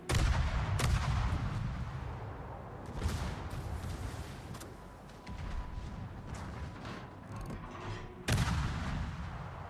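A warship in World of Warships firing its three forward guns, heavy booming salvos at roughly three-second intervals over a continuous low rumble of battle, with no talk.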